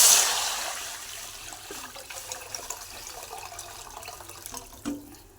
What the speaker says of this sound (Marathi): आता पाणी घालायचं